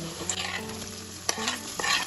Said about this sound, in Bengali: ভালো করে তেলের সাথে এটা ভাজা করে নেব